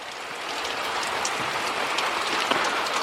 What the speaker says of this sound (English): The rain's kind of calmed down